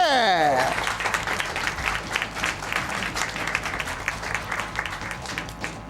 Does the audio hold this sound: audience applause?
yes